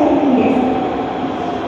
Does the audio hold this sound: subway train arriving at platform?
yes